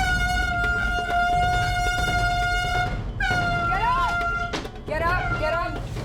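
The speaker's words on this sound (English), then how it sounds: "This morning, we were woken to the sound of air horns. Very loud air horns, to be exact." Very loud air horns used as a wake-up call in the Hell's Kitchen dorm blare in long, sustained, harmonic blasts, stopping and restarting with wavering pitch. The horns fill the whole stretch.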